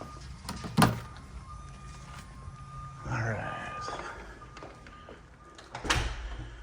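The front door of a Monterey model home at Lakewood Ranch opens and closes: a firm thump, a longer swishing scrape, then a closing thud, with a brief spoken remark.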